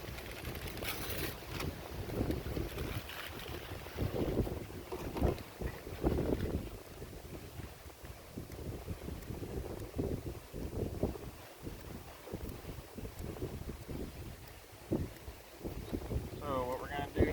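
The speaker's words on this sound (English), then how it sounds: "We've had a little bit of rain today, so it's a little windy." Wind gusting across an outdoor beehive yard after rain, a steady rough rushing with buffeting microphone noise throughout, rising and falling in uneven bursts.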